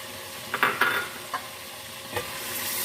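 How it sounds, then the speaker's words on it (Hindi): Tomato and ginger puree with whole spices frying in a pan, a steady close sizzle with a few sharp scrapes and knocks of a spoon stirring early on. "टमाटर को मिक्स कर लेते हैं और अदरक और टमाटर को भून लेते हैं।"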